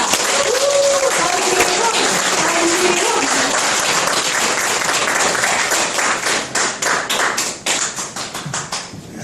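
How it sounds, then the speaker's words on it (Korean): A lecture audience at a Busan history talk applauds to welcome the speaker, a dense steady clapping that thins into scattered, uneven claps as it fades at the end. "여러분 힘찬 박수로 맞이해 주시기 바랍니다"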